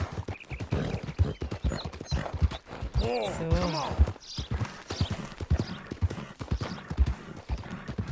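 A horse's hooves clip-clop in Red Dead Redemption 2, quick rhythmic steps running throughout with a whinny partway through, while a player speaks Swiss German over the gameplay.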